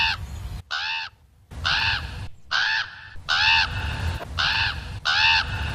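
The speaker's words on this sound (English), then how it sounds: "In nearly every establishing shot of the power plant, a crow can be heard." A crow caws repeatedly outside the power plant in The Simpsons, with about seven loud, harsh calls in an uneven rhythm and brief gaps between them.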